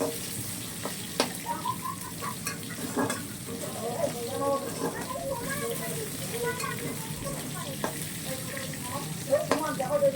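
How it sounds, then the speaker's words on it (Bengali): Potatoes fry in plenty of oil in a wok with a little salt, a steady close sizzle and crackle with intermittent stirring scrapes, while someone talks over it. "আলুটাকে একটু লাল লাল করে ভেজে নেব আমি"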